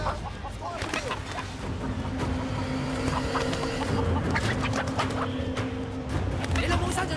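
Roosters clucking and squawking at a cockfight in the Sleeping Dogs game, repeated bird calls over a busy background murmur with voices talking throughout.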